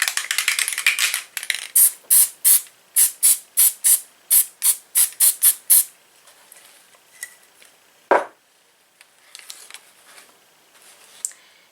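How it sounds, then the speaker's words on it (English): Close, loud bursts of aerosol spray glue, a long hiss followed by about a dozen short, rhythmic sprays, then quieter rustling and one brief sweeping sound. "I'm just going to add some spray glue to her"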